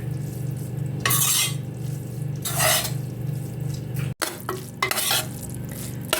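Vegetables with melting butter are stirred in a pan: a steady sizzle underlies several bursts of utensil scraping and clinking against the pan, with a brief sharp break midway.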